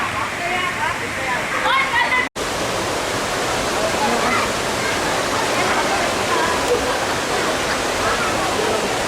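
River water rushing steadily at Mount Banahaw in the Philippines, a broad continuous wash of flowing water with a brief dropout near the start and faint voices mixed in early.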